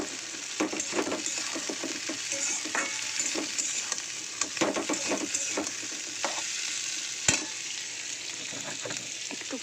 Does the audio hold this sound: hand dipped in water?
no